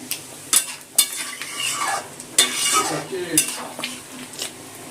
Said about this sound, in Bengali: এই যে আদাটা ঘষে দিলাম, এটা ডালের সাথে মিশিয়ে নেব